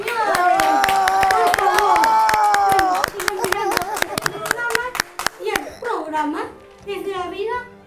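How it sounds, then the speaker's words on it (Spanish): Sharp, rhythmic hand clapping from a TV studio audience during a variety show, loud and close, with a sustained voice over the first part and a few voices calling out as the clapping fades. "Pero un aplauso, señor."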